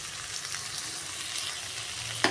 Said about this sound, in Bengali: তো আমি এটাকে চাপা দিয়ে দিয়ে ভেজে নিই